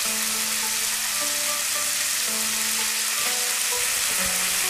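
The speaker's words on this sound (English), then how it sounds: "This beef is still a little bit frozen, so I'm breaking it up and spreading it around the pot so that it will cook more evenly" Partly frozen ground beef fries in a pot and is broken up and spread around, giving a steady close sizzle with faint scraping and stirring throughout and no talking.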